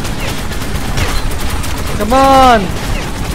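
Enemy gunfire in the Metro 2033 Redux video game crackles in dense, continuous bursts throughout, fairly loud and close, with someone shouting briefly over it near the end.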